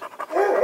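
A shelter dog panting close by, quick short breaths that become a steady rapid pant, with no talk over it.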